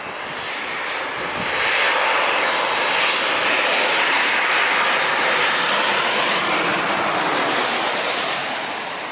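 Airplane landing at San Diego International Airport, a loud sustained jet engine roar that swells and holds, broadband and close, with no voices.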